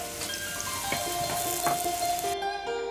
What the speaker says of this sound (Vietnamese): Sau đó bắt chảo lên chiên sơ cho vàn đều lớp ngoài là được.